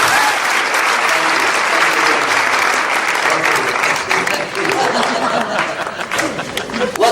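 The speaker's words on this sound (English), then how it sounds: "Let's give each other a big applause." Audience applause during a talk on healing, a dense, steady roar of many hands clapping that stays loud throughout and thins slightly toward the end.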